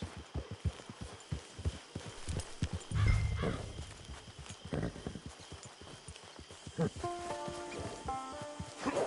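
A horse in Red Dead Redemption 2 clip-clops along in a steady, even rhythm of hoofbeats, close and clear, with a brief whinny near the end.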